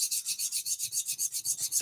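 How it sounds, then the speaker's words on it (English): A diamond file sharpens the edge of a double-edged woodworking tool in steady, even back-and-forth strokes, close and rhythmic, about a dozen rasping passes with no talk. "So both of them are done with a diamond file."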